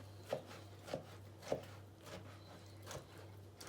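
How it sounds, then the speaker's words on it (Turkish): A knife chops roasted eggplant and peppers on a cutting board in a few soft, evenly spaced thuds, quiet and close, over a low steady hum. "Patlıcanları ve biberleri birlikte doğrayacağım."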